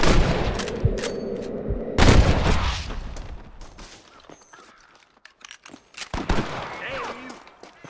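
Sniper and rifle gunfire in the Red Dead Redemption video game: loud, close bursts of shots and heavy impacts crack through the first few seconds, then sparser single shots follow, with game voices talking in between.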